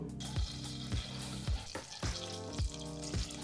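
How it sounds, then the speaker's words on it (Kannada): A tablespoon of butter melts and sizzles in hot oil in a pan for aloo matar gravy, a close, continuous sizzle with repeated low scraping stirs at a regular pace. "ಎಣ್ಣೆ ಬಿಸಿಯಾದ ನಂತರ ಈಗಿಲ್ಲಿ ಒಂದು ಟೇಬಲ್ ಸ್ಪೂನಷ್ಟು ಬೆಣ್ಣೆನ ಹಾಕ್ತಾ ಇರ್ತಕ್ಕಂಥದ್ದು"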